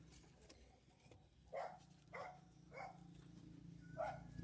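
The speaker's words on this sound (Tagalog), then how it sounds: "nag-iingay yung aso" A dog barks in a rural yard where people are burning something to make smoke, giving four spaced barks at moderate distance over a low steady background hum.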